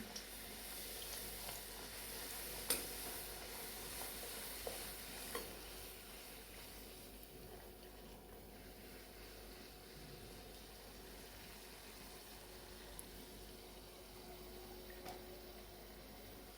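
Spicy wheat flour puris deep-frying in hot oil give off a soft, steady sizzle that stays faint and even throughout, with a few small pops and no voices.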